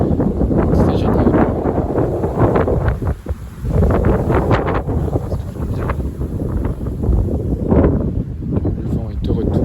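Strong southwest wind gusting near 60 km/h on the fringe of Storm Éowyn, a loud, continuous roar buffeting the microphone with rustling surges, brief lull midway, and a voice speaking over it.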